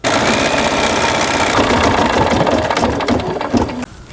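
Embroidery machine stitching red thread into vinyl, a loud, fast continuous mechanical chatter running steadily before stopping abruptly near the end.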